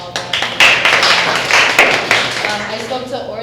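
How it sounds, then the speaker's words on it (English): An audience at a student government parliament meeting applauds its newly announced officers with brisk, uneven clapping that swells and then thins out. "So round of applause to all of them."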